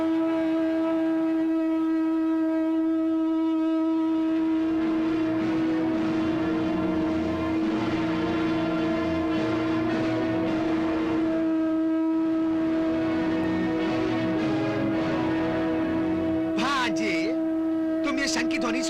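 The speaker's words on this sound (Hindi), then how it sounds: "तुम ये शंख की ध्वनि सुन रहे हो?" A conch shell blown in a Mahabharata battle drama, a sustained steady horn-like tone held for many seconds, loud and alone without speech.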